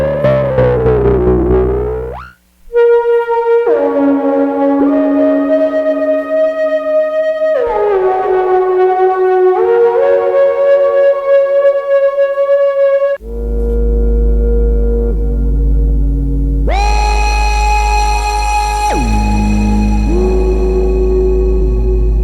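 A Korg MS-20 analog synthesizer runs through patches in turn, a kick, pad, lead, bass and effect, with gliding pitch sweeps, sustained buzzy tones and a deep droning low end, loud and without talk.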